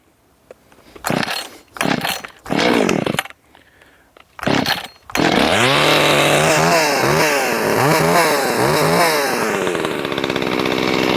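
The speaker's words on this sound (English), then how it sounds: "Let's see how this thing fires up." A Zenoah/BlueMax 5200-class chainsaw is pulled over a few times with rough sputtering bursts, then fires and runs loudly up close, its two-stroke engine revving up and down repeatedly before holding a steady roar.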